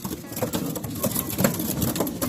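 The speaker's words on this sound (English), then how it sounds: "here I have all the young birds already vaccinated now, and as you can maybe hear, it's absolute chaos." Young racing pigeons crowd and flap inside a basket after vaccination, a dense, restless flurry of wingbeats and soft calling that runs steadily throughout, with a voice faintly underneath.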